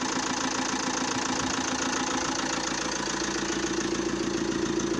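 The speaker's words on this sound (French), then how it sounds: "le bruit ça change énormément. Ah, il y a un bruit plus fort et plus sourd. Et on sent que le moteur il respire mieux quand même." An Alfa Romeo Giulietta 2.0 JTDM diesel fitted with a BMC air filter idles steadily and loudly, its even, rough engine drone running unbroken throughout with no voices.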